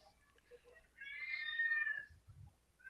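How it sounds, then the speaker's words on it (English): A cat yowls in a long, loud, drawn-out meow near the microphone, rising and wavering for about a second, with quieter room sounds before and low thumps after. "whose cat is that?"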